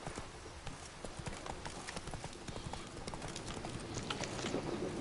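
Horse hooves trot in The Witcher 3: Wild Hunt, a quick, even clip-clop of steady hoofbeats that stays close and continuous throughout, growing slightly louder toward the end.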